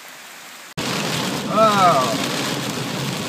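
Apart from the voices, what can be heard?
heavy rain during typhoon at covered bridge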